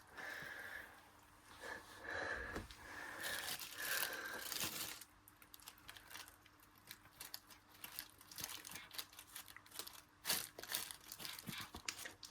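A dog gnaws and crunches on a piece of dried fish held in a person's hand, giving close, quiet crinkling, tearing and snuffling sounds in irregular bursts, with occasional sharper crunches and sniffs.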